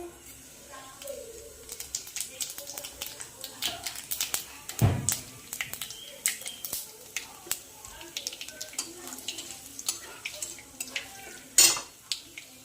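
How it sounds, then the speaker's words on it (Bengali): Nigella seeds (kalo jeere) land in hot oil for a prawn malai curry, giving soft sizzling under a run of utensil scrapes, pan clatter and taps, with one louder knock midway and another near the end. "তেলটা গরম হয়ে গেছে, এখন এটাতে কালো জিরে দিচ্ছে।"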